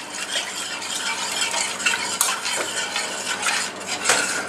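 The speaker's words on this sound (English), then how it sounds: "Got to keep stirring it." A spoon stirs lasagna sauce in a pot with a steady scraping swirl. Light metallic clinks ring against the pot over a low bubbling simmer.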